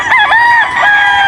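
Rooster crowing loud and close inside a sloped hillside chicken coop, one long strained call rising and falling over about a second and a half, with other fowl faintly behind it.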